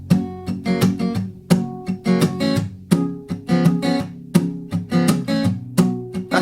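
Acoustic guitar playing a palm-muted strum pattern, heard alone and close: a steady, bouncy rhythm of short, partly damped strums with an occasional accented chord.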